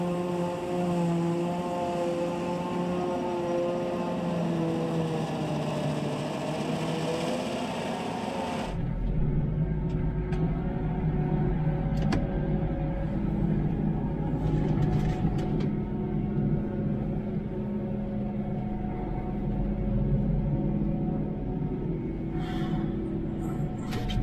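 A Fendt 516 tractor pulls an HW80 trailer during a grass silage harvest. Its engine drones steadily, shifting pitch partway through, then settles into a deep, continuous rumble.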